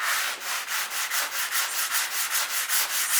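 Burnt wood sanded by hand with a medium-grit sponge, giving a steady, rhythmic rasp of about ten close, even back-and-forth strokes with no talking.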